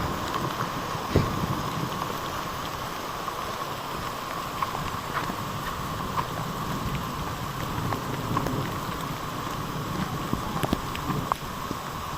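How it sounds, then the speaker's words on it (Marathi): Dense, steady pattering of a summer hailstorm striking surfaces outdoors in Konkan, with occasional sharper individual impacts standing out from the continuous roar. "गाराच गारा."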